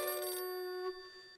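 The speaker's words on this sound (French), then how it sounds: "Chez les ours bruns, ça sonne, car il y a beaucoup de téléphones." Cartoon telephone ringing: one sustained electronic ring tone with bright harmonic partials, fairly quiet and alone, breaking off abruptly after about a second.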